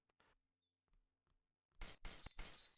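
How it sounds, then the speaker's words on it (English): Glass shatters loudly in the video game Scraps, a bright crashing burst after a few faint clicks and thuds, with the breaking debris ringing on for about a second. "So you break the glass"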